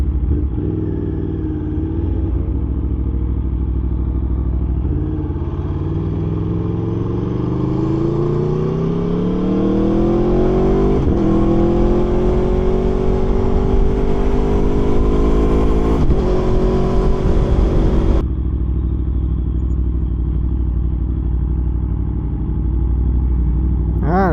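An Aprilia Tuono V4 motorcycle on the road, its engine revving up through rising gear pulls with a loud, close rumble and wind noise before easing off, alone without voices.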